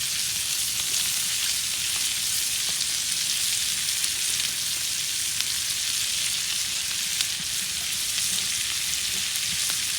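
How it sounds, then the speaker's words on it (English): Onions and red pepper sizzle in bacon fat on an outdoor Sunterra 48-inch Santa Maria grill griddle, a loud, steady, dense frying hiss that runs unbroken from start to finish with no voices. "what we're going to do now is we're going to go ahead and add our onions and our red pepper."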